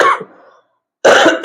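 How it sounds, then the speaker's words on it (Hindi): Two harsh coughs from one person during a maths lesson, close and loud, separated by about a second of silence. "थोड़ी खांसी हो रही है"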